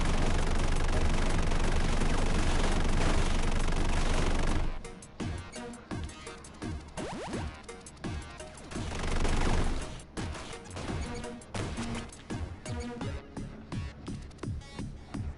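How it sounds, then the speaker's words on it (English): Rapid shotgun fire in the video game Robozarro: a dense, loud barrage of blasts at first, then quick bursts of sharp shots mixed with clattering impacts, with no talking. "it's really fun to just pelt these guys with 99 little bullets,"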